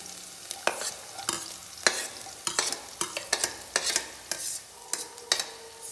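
Green chillies stirred and frying in a pan, with repeated sharp scrapes and clatters of a utensil against the pan over a steady oil sizzle, close and fairly loud, with no voice.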